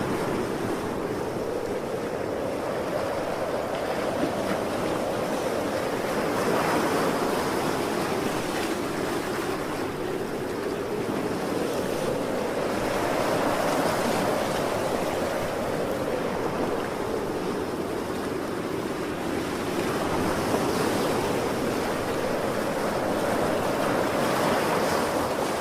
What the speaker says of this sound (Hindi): तब यहोवा ने समुद्र में एक प्रचंड आंधी चलाई